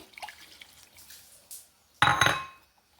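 Water tipped into a pot of cooked lentils for a Malabar spinach sambar, a short splashing pour arriving after a few faint drips and light kitchen clatter.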